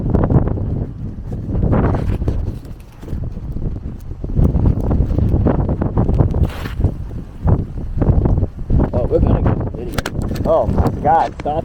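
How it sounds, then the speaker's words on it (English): Gusts of wind buffet the microphone during an outdoor ride on a Begode A2 electric unicycle, with loud irregular rumbling bursts throughout and brief voices in between. "Ah, the wind."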